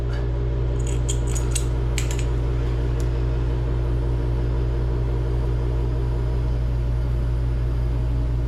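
Chinese diesel heater running on a 50/50 gasoline and waste oil mix gives a constant low hum and rumble, with several sharp metallic clicks early on before it settles into a steady drone.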